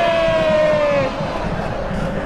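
Crowd cheering and shouting at an informal football goalkeeper challenge, a steady loud roar of voices with a sustained whistle-like tone fading after the first second.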